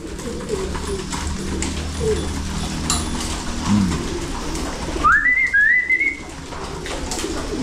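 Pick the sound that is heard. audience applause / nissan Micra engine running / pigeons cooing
pigeons cooing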